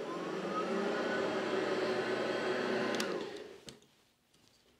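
A vacuum cleaner with an aggressive brush roller is pushed and pulled across carpet, giving a loud, steady motor whir and brush roar that cuts off after about three seconds, with brief speech in the clip.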